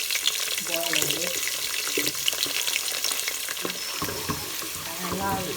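Onions frying in hot Zomi palm oil for a Ghanaian okro stew: a steady close crackling sizzle with soft shifting bubbling and a few stirring knocks throughout.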